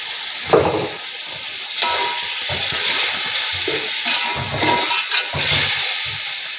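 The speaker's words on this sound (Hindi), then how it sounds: "पानी का छिलका लगाएंगे" Water sprinkled onto degi matar biryani rice frying in a pot, a steady close hiss and sizzle broken by scraping stirs, with no talking.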